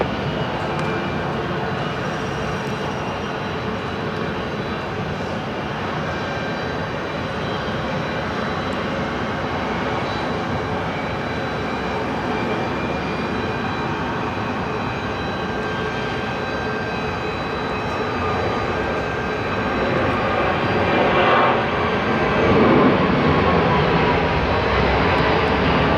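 Airliner taking off from runway 34 right at Seattle-Tacoma airport, a steady broadband jet roar that holds for the whole stretch and swells slightly louder toward the end, with no talk over it.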